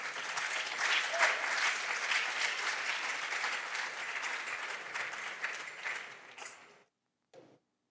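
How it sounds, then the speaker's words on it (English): An audience at a junior science and maths national championship quiz applauds its contestants with sustained, dense clapping that swells early, holds steady, then fades out, followed by a brief final burst. "let's give our contestants a big round of applause"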